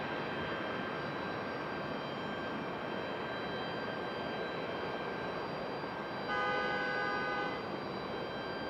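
A Frontier Airlines plane departing from Raleigh-Durham International, a steady broad jet roar at moderate distance with a brief tonal whine rising near the end; no voices.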